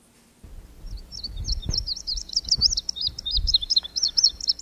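Songbirds chirp and trill in a rapid, repeated high pattern that starts a second in and continues to the end, with some low rumbling noise beneath and no talk.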